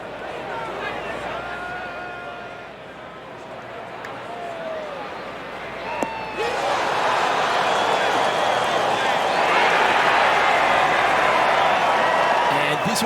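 Spectators at the par-3 16th stadium hole at TPC Scottsdale in the PGA Tour video game, a steady crowd murmur with commentary over it that swells into a loud, sustained roar of cheering halfway through.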